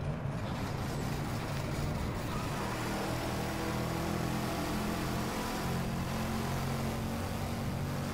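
A race car engine in the DriveClub racing game roars loudly and steadily for the whole stretch, with a dense low growl and no pauses or voices.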